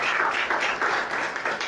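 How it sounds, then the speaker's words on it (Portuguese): A church congregation applauds after a sermon, dense continuous clapping in rhythmic swells lasting the whole moment, steady and fairly loud with no voice on top. "Quem entendeu pode aplaudir"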